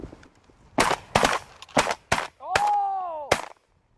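Shotgun blasts ring out during a duck and goose hunt, roughly six sharp, loud reports in quick uneven succession, with a brief shout or call among them.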